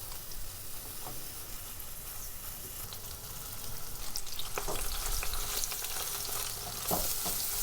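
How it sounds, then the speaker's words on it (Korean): Mushrooms sauté in butter in a pan with a steady sizzling hiss, close by, growing a little louder midway with occasional stirring clatter. "저는 요 버섯을 볶을 때 버터를 넣는 거를 좋아해서 버터도 조금 집어넣을게요"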